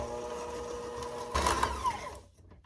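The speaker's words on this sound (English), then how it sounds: "using a hand mixer, electric hand mixer. Start mixing on a medium low." An electric hand mixer creams butter and sugar on medium-low speed, giving a close, steady motor whine with a brief louder surge midway before it cuts off near the end.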